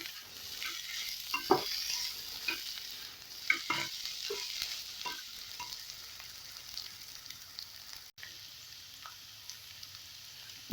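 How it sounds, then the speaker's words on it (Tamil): Onion and egg stirred together in a frying pan for egg rice, a close, steady sizzle with irregular scraping and spatula scuffs, the frying hiss fading slightly toward the end. "இப்போ வெங்காயம், முட்டை ரெண்டுத்தையும் சேர்த்து நல்லா கிளறி விட்டுக்கலாம்."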